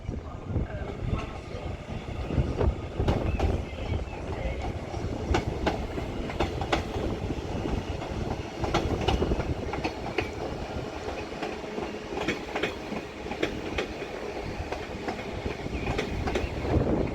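Class 331 four-car electric train arriving at Wigan North Western, with steady rumbling wheels and clickety-clack over rail joints, scattered clanks and squeals, loud and close for the whole length.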